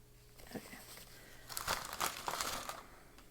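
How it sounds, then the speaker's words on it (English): A tissue crinkles and rustles against a fountain pen nib inked with Diamine Shimmertastic Rockin' Rio, with a few soft early rustles, then a denser burst of close crumpling and wiping in the second half. "Wipe off my nib here and put my pen back together"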